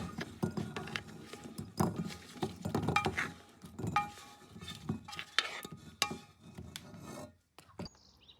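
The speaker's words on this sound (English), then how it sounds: "Stir them occasionally" Chestnuts stirred inside a rice cooker, giving a close run of irregular scraping, rustling and knocking as the nuts tumble against the pot, with short pauses between strokes.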